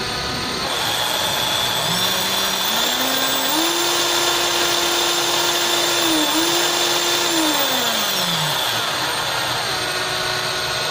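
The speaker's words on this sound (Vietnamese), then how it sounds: "Đây là khoan búa và ở dải tốc độ thấp." A National EZ 6813 cordless hammer drill, a Japanese-market model with a 29.4 V battery, runs at low speed. Its close, loud motor whine ramps up, holds steady, dips briefly, then winds down near the end.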